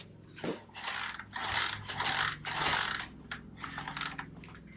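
A motorcycle in a home garage, cold after six months unused, is kick-started: a run of ratcheting, clattering mechanical bursts in irregular rhythm, loud and close with no talk.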